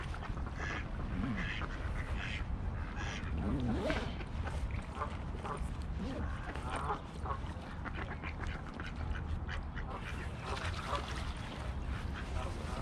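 Ducks quack repeatedly over steady outdoor noise, some calls close and others farther off, with faint voices now and then in the background.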